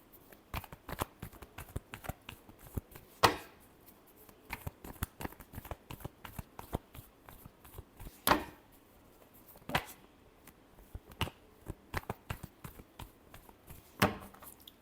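Tarot cards shuffled by hand in a quiet room, a dense run of soft riffling flicks and taps with a few sharper slaps as the deck is squared, steady and close throughout, with no voice.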